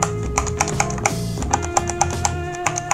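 Mechanical keyboard with clear keycaps typed on in a quick irregular run of sharp clacking keystrokes, close and moderately loud with a slight echo, no talking.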